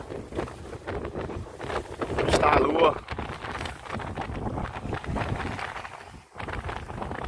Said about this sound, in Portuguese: O vento hoje parece ser melhor